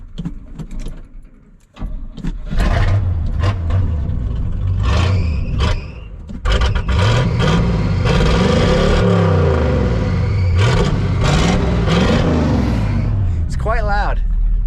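A car engine in neutral revs loudly, rising and falling in repeated surges over a steady rumble, with clutch noises and a few sharp clicks or scrapes.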